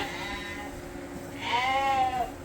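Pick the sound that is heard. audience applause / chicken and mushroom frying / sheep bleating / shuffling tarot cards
sheep bleating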